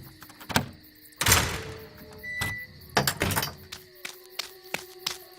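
A jail door on a dynamite magazine at an old mine, recreated as a sound effect for a 1934 radio drama: a series of clanks, thunks and metallic scrapes, close and moderately loud, with a brief creaking tone.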